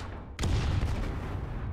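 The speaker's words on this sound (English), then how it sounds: "It's just huge. It's just like an enormous explosion." An enormous explosion set off by a Minecraft sword in the game People Playground, a sudden loud boom that gives way to a sustained heavy rumble.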